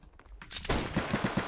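Gunfire in the Roblox game Flag Wars during a sniper-only match: a sharp shot, then a run of rapid, evenly spaced cracks, loud and close, with no voices.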